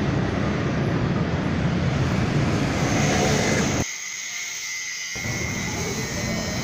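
A Suzuki Jimny Katana engine roars loud and steady, held at about 4000 RPM, with a brief dip in the low rumble partway through before it returns.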